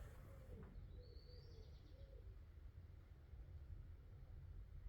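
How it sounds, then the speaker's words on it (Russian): Wild pigeons cooing faintly in the distance during a thunderstorm with heavy rain, a few soft low calls over a constant dull rumble of rain and wind. "Дикие голуби поют."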